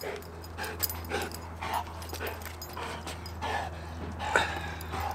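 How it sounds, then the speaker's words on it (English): A dog gives a few short barks and whimpering yips during a bark-training session with a ball as the reward, close by over a steady low hum. "if he's struggling and he does 1 good bark"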